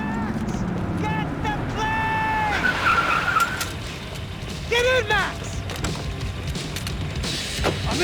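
A car's tires screech loudly in a long skid during a chase in a gritty crime shooter video game, with engine noise and crashing clatter around it and a voice shouting over the action.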